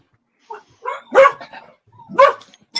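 A dog barking and yipping indoors, a few separate close barks with short whining notes between them, loud against an otherwise quiet room.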